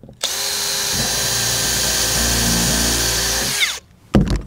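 A power drill drives 2-inch screws through 3/4-inch plywood into the framing of a skate box, whirring loudly and steadily for about three seconds before spinning down and stopping, followed by a brief knock.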